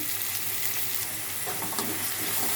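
Onions fry and get stirred in a pan, a dense steady sizzle with soft scraping from the stirring, close and fairly quiet, with no one talking.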